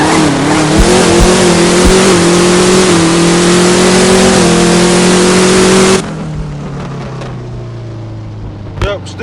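A tuned Dodge Challenger Hellcat drag car accelerating hard down a drag racing strip, a very loud, rising engine roar that cuts off after about six seconds to a quieter, fading drone.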